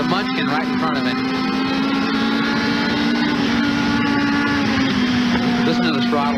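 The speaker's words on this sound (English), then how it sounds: "You can tell exactly how he's pushing the throttle by the sound of the engine." A race car engine runs under throttle in a stock car race, a continuous droning whine that holds steady for several seconds with slight pitch shifts, while a commentator talks over it.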